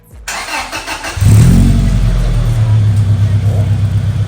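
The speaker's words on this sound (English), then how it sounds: "All right, first start with the fresh exhaust and the" A Toyota Tacoma with a fresh exhaust and gutted catalytic restriction cranks briefly and catches, settling into a loud, close, raspy idle with a slight rev; a voice speaks quietly before the start.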